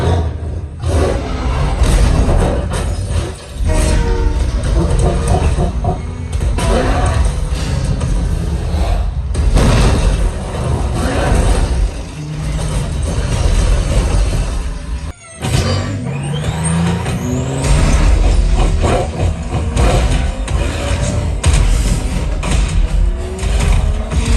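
A Ready Player One movie scene plays loudly through a home theater system with heavy bass, a dense continuous mix of deep rumbles, roars, mechanical clanks and impacts filling the whole stretch.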